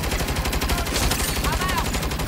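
Gunfire from weapons in Saints Row rattles in quick, steady bursts, loud and close. A brief voice and some game noise sit in the mix alongside the shots.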